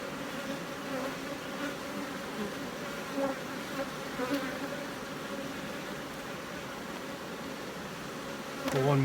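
Dense, steady buzzing of honey bees fills the air around an open beehive during a frame inspection, close and continuous with a few brief knocks.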